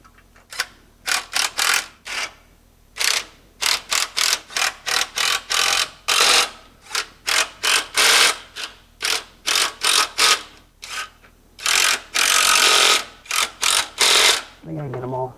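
Ratcheting wrench tightening bolts to torque spec on a Ford Ranger, heard as repeated bursts of close, loud ratchet clicks in quick strokes with short pauses between them.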